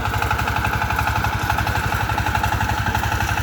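An ACI R-28 power tiller with a modified gearbox and fast blades runs in a lychee orchard, its engine thumping in a rapid, even, loud clatter throughout.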